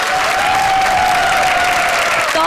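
Loud, continuous studio audience applause on a comedy talk show, a dense unbroken wash of clapping with a sustained musical tone running through it.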